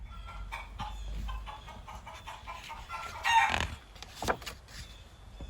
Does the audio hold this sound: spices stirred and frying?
no